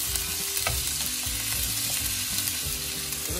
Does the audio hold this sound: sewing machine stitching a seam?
no